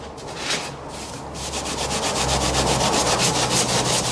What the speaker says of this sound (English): these edges and sand them